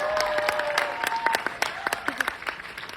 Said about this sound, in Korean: 박찬욱 감독님 큰 박수 부탁드리겠습니다